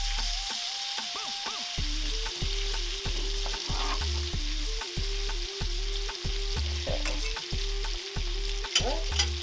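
A wagyu ribeye steak sizzles in butter in a pan, a steady close frying hiss with rhythmic tapping and scraping of a utensil throughout.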